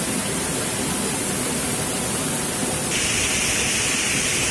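Curug Panepen, a waterfall in the forest of Jeruk Legi, Cilacap, roars steadily and loudly, a broad unbroken hiss that grows a little brighter partway through, with no voices.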